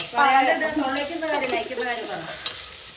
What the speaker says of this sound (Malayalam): എണ്ണ ചൂടായപ്പോ വല്യുള്ളി ഇട്ടു കേട്ടോ